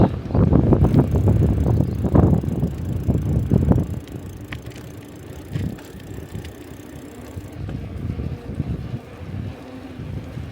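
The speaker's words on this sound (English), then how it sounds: "Because we're going against the wind." Riding a bicycle into a headwind, heavy wind buffeting roars loudly across the microphone for the first few seconds, then eases into quieter gusts and road rumble.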